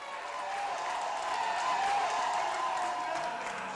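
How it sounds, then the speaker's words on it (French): Audience applause at a televised music talent show, a sustained, even spread of clapping with some crowd noise, filling the room at moderate volume throughout. "On applaudit pour elle!"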